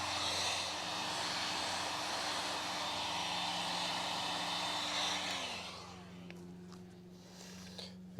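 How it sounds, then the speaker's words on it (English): A hot air blower warms a pond pipe to soften it, giving a loud, steady whooshing roar that winds down after about five seconds, leaving quieter knocks and light handling sounds. "I'll just keep moving the pipe as I'm blowing some warm air over it until it starts to soften up"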